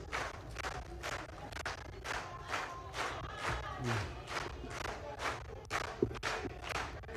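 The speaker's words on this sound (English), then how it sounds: "Another big round of applause." Rhythmic group clapping and crowd noise from an audience at a Ugandan national census results launch event, steady and fairly loud throughout, with some voices mixed in.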